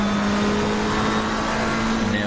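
A sim racing game's car engine drones loudly through a corner, holding a steady pitch with slight shifts as it downshifts, tire noise faintly underneath.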